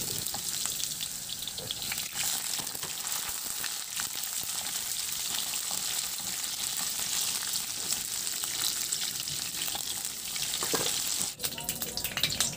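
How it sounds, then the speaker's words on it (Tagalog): Potatoes, carrots and bell pepper fry in hot oil in a wok, a loud, continuous close-up sizzle that holds steady throughout, with a brief clatter near the end. "Sa kawali, magpainit na ako ng mantika at iprito ko muna yung patatas, carrots at bell pepper."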